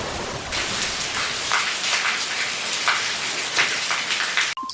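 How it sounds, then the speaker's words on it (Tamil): Heavy rain pours steadily outdoors during the rainy season, a dense, constant hiss of drops on surfaces, close and fairly loud with no talking. "இங்க பாருங்க எவ்வளவு மழை அடுத்து ஊத்துதுன்னு"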